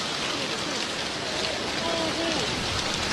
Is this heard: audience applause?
no